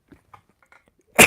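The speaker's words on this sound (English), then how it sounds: "I gotta sneeze." A single sharp sneeze bursts out loudly at the very end after a second of faint, scattered mouth and breath sounds.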